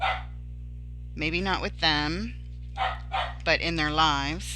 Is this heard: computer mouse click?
no